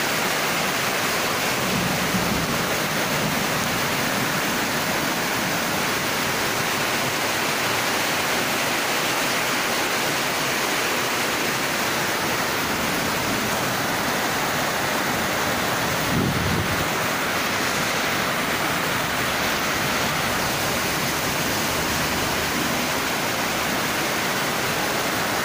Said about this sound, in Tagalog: Ulan sa dapit hapon.